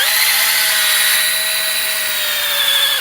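A cordless drill spins a chimney cleaning brush at high speed, giving a loud, steady whine that holds an even pitch for about three seconds, with no talking.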